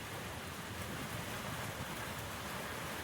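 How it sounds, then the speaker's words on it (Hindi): Heavy night storm in Bihar, East Champaran, with strong wind and rain: a dense, steady roar of downpour and gusts fills the whole stretch at constant loudness, with no voices. "बिहार में तेज आंधी तूफान और बारिश।"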